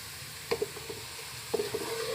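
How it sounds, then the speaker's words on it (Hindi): Black pepper, cloves, cumin and cinnamon fry quietly in a pan, a faint low sizzle broken by a few light clinks of a stirring spoon. "2 से 3 अदद हमने लिए है काली मिर्च और लौंग और ज़ीरा और दालचीनी। इसको हम इसमें मिक्स करेंगे।"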